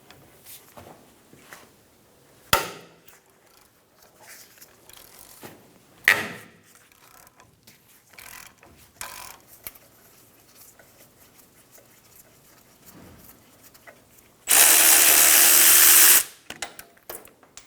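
A 17mm socket removes the front brake caliper bolts on a 2000-2006 Toyota Tundra: scattered faint metallic clicks and knocks, then one loud, close, steady whirring burst of about two seconds, with no talk.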